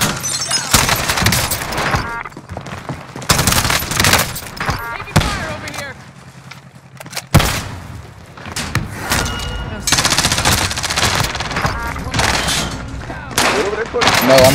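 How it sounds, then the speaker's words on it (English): Rapid gunfire bursts from a Rebirth shooter match come in loud repeated volleys with short gaps, with a quieter lull in the middle before automatic fire picks up again. A voice talks between the shots. "Taking shots."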